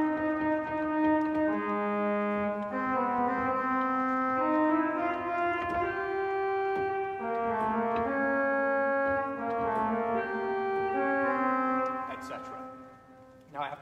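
A trombone-like melody from America is played with the feet on a foot-operated instrument, a smooth legato line of sustained tenor notes moving steadily at moderate volume.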